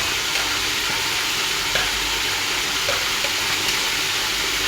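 Tomatoes frying in a hot pan, a dense continuous sizzle and crackle with faint stirring clicks, close and steady throughout with no talking.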